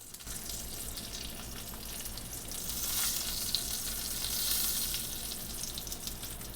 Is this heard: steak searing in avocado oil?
yes